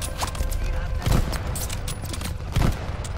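Lee-Enfield rifle fire in the Call of Duty: Vanguard campaign, with two heavy booming shots about a second and a half apart over a busy wartime game soundscape and a voice talking underneath.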